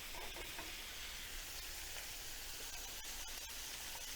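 Flour stirred into hot oil in a pan to start a Dijon chicken pan sauce, giving a soft, steady sizzle with faint scraping, quiet and close.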